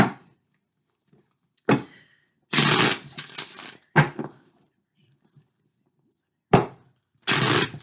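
Tarot cards being shuffled, heard as several short papery riffling bursts separated by quiet gaps, close and moderately loud, with no talking.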